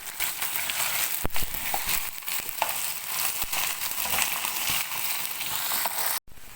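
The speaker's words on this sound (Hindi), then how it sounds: "अब इसमें गोश्त डालेंगे। और तकरीबन जो है 5 से 6 मिनट के लिए अच्छी तरह से गोश्त को भून लेंगे।" Meat fries in a pan with browned onions for biryani, giving a loud, continuous close sizzle broken by scraping stirs and crackles, and a brief dropout near the end.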